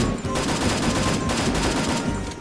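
Sustained full-auto M4A1 rifle fire in a shooter video game, loud and close, a continuous rapid burst of shots lasting a couple of seconds with no talking.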